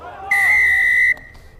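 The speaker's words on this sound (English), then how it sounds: "blast in the whistle" A referee at a Super6 rugby match between Boroughmuir Bears and Ayrshire Bulls gives one loud, sharp whistle blast lasting under a second, with crowd murmur faintly behind it.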